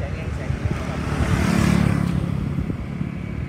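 A petrol-powered 1:5 scale Rovan Baja RC car running on A92 fuel drives past, its buzzing two-stroke engine swelling louder as it nears, peaking mid-pass, then fading away.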